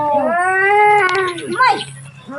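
Two cats fighting let out a loud, close, drawn-out caterwaul that rises and holds, then breaks into a shorter wavering yowl.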